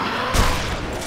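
A brief burst of gunfire in the zombie video game Dead Island, a loud boom-like crack over a dense, noisy game soundscape, lasting only about a second.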